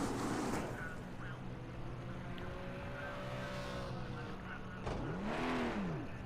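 Racing car engine in the crash-racing game Burnout, a steady loud drone with pitch sweeping up and down as the car accelerates and shifts, swelling again near the end, with no talking.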